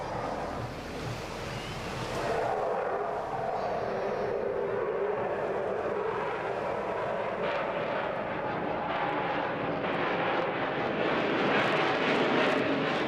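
A canard-equipped fighter jet flies a slow-speed loop at the English Riviera Airshow 2024, its engine a steady, broad roar rising and swelling slightly, heard from a distance with wind noise and no talk.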